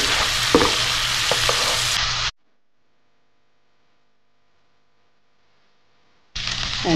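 Lemon chicken frying in a pan with lemon juice, stirred with audible scraping and sizzle for about two seconds, then a long silence before the sizzling returns near the end.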